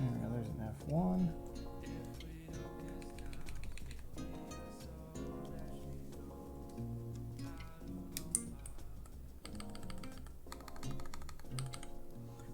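Typing on a Keychron Q1 mechanical keyboard, a steady run of clacking keystrokes at close range, partly under a loud backdrop of sustained tonal music.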